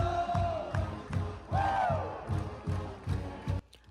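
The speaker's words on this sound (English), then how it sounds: "Vol Nation was showing their school spirit, chanting on the way to the stadium, V-O-L-S, go Vols, go!" A crowd of Tennessee Vols football fans walking to the stadium chant in a steady rhythmic cadence, voices rising and falling in repeated pulses with a few higher whoops over the top.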